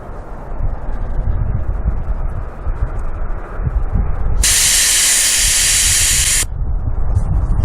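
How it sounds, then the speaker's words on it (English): Air hisses steadily out of a vehicle tire through a Staun tire deflator, a loud bright rush that swells and holds for about two seconds over a constant broadband background hiss. "Then you begin to gradually take this out. And once you hear air start to come out,"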